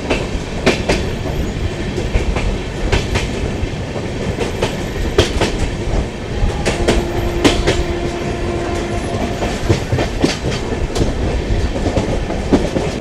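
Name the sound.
passenger train running on rails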